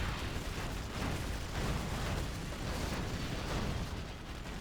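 Cannon fire and explosions from the Command and Conquer Generals USA campaign merge into a dense, continuous battle rumble. Booms overlap without clear gaps, fairly faint overall.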